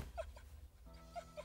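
A cartoon dog whimpers in a few short, high whines spread across a brief moment, with quiet background music beneath in a French-dubbed animated fairy series.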